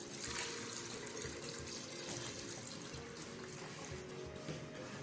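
Water pours steadily into a pressure cooker pot holding beef for boiling, a continuous broadband splashing stream running for several seconds at moderate level with no talk.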